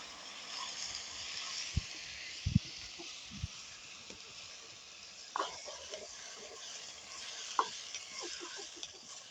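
Turkey berries sautéing in oil with garlic and onion, a steady broad sizzle with a few sharp spoon scrapes and clicks of stirring scattered through, close and moderately loud, no voices.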